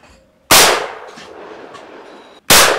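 Boules striking in a game of pétanque shooting: two abrupt, loud, close impacts, the first ringing and decaying for nearly two seconds before the second hits, with no voices in between.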